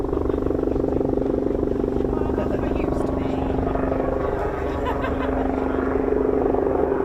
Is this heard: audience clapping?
no